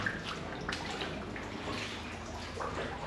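Rainwater pours and splashes steadily into a bathroom in a building whose roof a Category 5 hurricane ripped off, a continuous close wash of running, dripping water.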